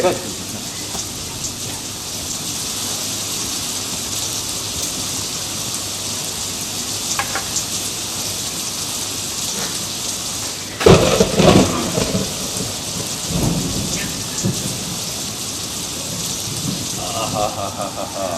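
Heavy rain pours steadily, and a deep rumble of thunder rolls in partway through, with faint voices now and then.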